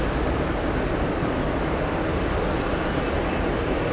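An Alaska Airlines jet airliner passes at JFK airport, a steady, broad engine roar heard from a distance with no break or change across the clip.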